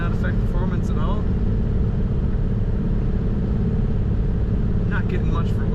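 Interior ride in a 1940 Ford Standard 5-window coupe, a steady loud low engine and road rumble throughout, with someone talking briefly over it.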